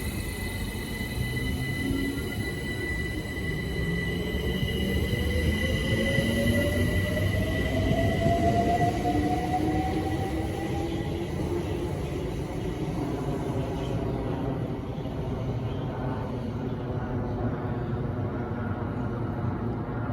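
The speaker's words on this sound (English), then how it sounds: "Departing now is the 1221 London Overground Windrush Line service to Dalston Junction." A London Overground Windrush Line train departing toward Dalston Junction, heard trackside: a broad rumble under a rising electric whine as it gathers speed, fairly quiet and steady throughout.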